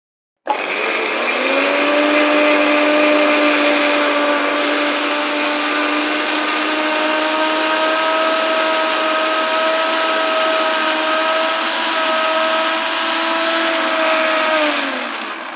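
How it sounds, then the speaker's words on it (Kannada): Kitchen mixer grinder blending chopped amla (Indian gooseberry), a loud steady motor whine that starts abruptly, runs about fifteen seconds and slows down at the end, with no one talking. "ಈ ಹೆಚ್ಚಿಟ್ಟಿರ್ತಕ್ಕಂಥ ಆಮ್ಲ ಏನಿದೆ ಆ ಆಮ್ಲವನ್ನು ನಾವು ಮಿಕ್ಸಿಗೆ ಹಾಕ್ಕೊಂಡು"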